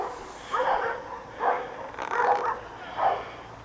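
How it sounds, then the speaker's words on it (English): Several dogs barking in bursts on a hillside by a sports complex in the Spanish town of Ronda, four distinct volleys at moderate distance over steady outdoor background. "These people walk their dogs, all the ones that can't get walked are coming unglued."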